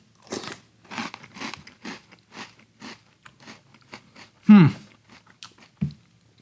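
Canadian Corn Pops cereal crunched and chewed close up, a series of dry bites and crunches in steady rhythm with one louder bite near the end, no talking.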